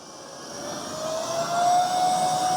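A Narwal Freo Z10 Ultra robot vacuum runs at Ultra suction, a loud, steady jet-like whine with a high tonal hum that swells slightly as it moves closer.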